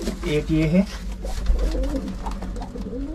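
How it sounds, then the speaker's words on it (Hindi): Pigeons coo softly in a loft, low burbling calls close by while someone speaks over them. "मैंने सारे के सारे कबूतर इसके अंदर मिक्स करके रखे हैं"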